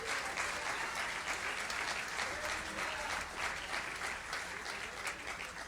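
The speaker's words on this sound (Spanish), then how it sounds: "Si usted quiere al Señor lo puedo aplaudir." A church congregation applauding, a continuous, fairly distant wash of clapping hands that holds steady for several seconds and fades slightly at the end.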